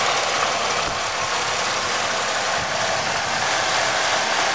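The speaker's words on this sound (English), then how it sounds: "All warmed up. Quiet. The injector firing," A warmed-up 3100 V6 idles steadily and close, a smooth low hum with a faint, rapid ticking of the injectors running underneath.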